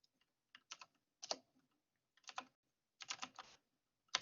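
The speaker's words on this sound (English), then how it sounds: "So the revision process, if I type in something like," Typing a search query on a computer keyboard: quick bursts of close key clicks separated by short pauses, with no talking.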